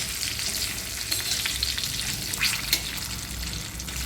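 Green chillies fry in hot oil in a pan, producing a steady, close hiss and crackle with faint stirring and no voices.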